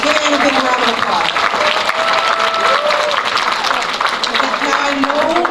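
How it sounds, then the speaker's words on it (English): An audience at a women's cloud technology summit gives a speaker a steady round of applause, dense and loud throughout, with some crowd cheering and a voice partly audible over it. "Give Anne a big round of applause"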